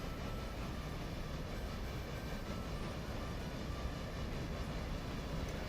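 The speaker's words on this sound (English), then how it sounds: "that sound of the 2 helper engines working hard is just" Two helper steam locomotives work hard up a grade in the Railroader video game, a faint, continuous dense rumble of exhaust and rolling rail noise holding steady throughout.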